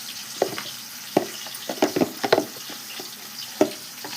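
Cumin and mustard seeds dropped into hot oil give scattered sharp pops and short crackles over a faint steady hiss, close and fairly quiet.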